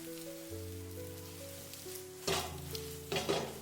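Eggs stir-fried in a hot pan with oil for a tomato, egg and mushroom dish; a steady sizzle runs under soft tonal background music, then two louder bursts of scraping, tossing spatula strokes.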